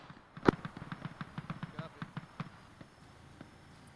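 Frag grenades going off in a military video game, a rapid run of sharp cracking pops led by one loud blast, then a dozen lighter bursts that gradually thin out and grow quieter.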